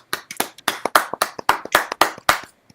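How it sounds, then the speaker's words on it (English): A few people clap for a football player, about ten sharp, close hand claps in a quick, slightly uneven rhythm with no voices, ending abruptly. "Let's clap it for Gus."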